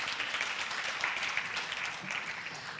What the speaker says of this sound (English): Ladies, a round of applause for yourselves.